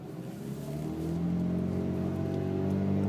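A 2002 Toyota Prius accelerates with a rising, steady drivetrain whine and hum that grows gradually louder, heard from inside the car.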